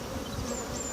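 Honey bees at an open hive during a swarm transfer, a dense steady buzzing hum close to the microphone, with a few individual bees' pitches rising above the drone.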